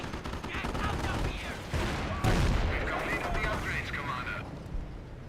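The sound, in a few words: Commando artillery barrage in Company of Heroes video game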